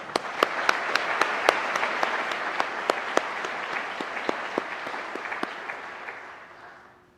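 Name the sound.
applause at a police graduation ceremony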